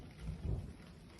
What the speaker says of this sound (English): That's an A+ thunder right there.